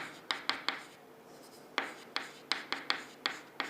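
Writing on a board during a database lecture: crisp taps and short scratchy strokes in uneven clusters, close and fairly quiet, with brief pauses between bursts and no speech.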